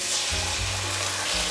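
Sauce poured into a hot wok over fried ginger slices bursts into a loud, steady sizzle that carries on through the whole short moment, with no voices.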